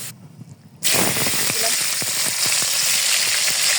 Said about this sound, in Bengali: এখন পেঁয়াজ বেরেস্তা করে নেব